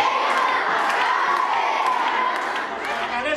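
A crowd of protesting parents and children shouts and chants loudly outside an education ministry district office in Paphos, Cyprus, a dense continuous roar of voices with excited children's yells throughout.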